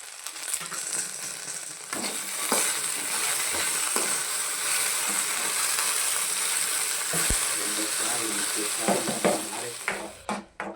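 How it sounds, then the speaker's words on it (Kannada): Okra (bhindi) fries in a pan in a home kitchen, a continuous sizzle with occasional stirring clicks and scrapes, close and steady, fading out at the end. "ಬೆಂಡೆಕಾಯಿ ಫ್ರೈ ಮಾಡ್ತಾ ಇದ್ದೀವಿ"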